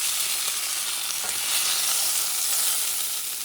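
Lamb chops sear in a cast iron pan with a dense, even hiss that holds steady throughout, close and fairly loud, with no talking.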